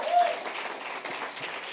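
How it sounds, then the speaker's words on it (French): A church congregation applauding and cheering during a French-language sermon, a brief, dense wash of clapping with a preacher's voice over it. "tu peux acclamer le Seigneur"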